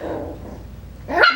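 A Coton puppy lets out a single short, sharp bark at the very end, following a quiet stretch with low background rumble.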